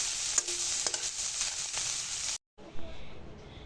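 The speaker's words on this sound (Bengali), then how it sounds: "ধনে পাতাটা দিয়ে আরেকটু নেড়ে চেড়ে এবারে আমি চুলা থেকে নামিয়ে নেব" Chicken momo filling with coriander leaves is stirred in a hot pan, a steady close sizzle with scraping stirs, briefly dropping out before resuming more quietly.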